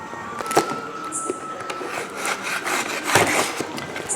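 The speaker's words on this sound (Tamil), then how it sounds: "இப்போ தான் கத்தி வச்சு கட் பண்ண போகிறேன்" Knife blade cutting through the seal on a cardboard laptop box, giving scraping, rubbing strokes with a few sharper cuts, close and moderately loud, with no talk.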